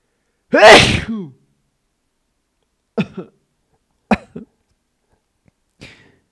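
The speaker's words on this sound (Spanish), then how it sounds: "Prefirió estornudar para no llorar." One loud explosive sneeze up close, then a few short throat-clearing coughs and sniffs spaced out afterward in an otherwise quiet room.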